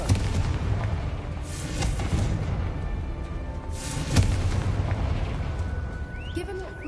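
Fire spell blasts from Hogwarts Legacy, with booming explosive bursts over a dense, continuous rumble of game effects and music, one sharp impact standing out near the middle.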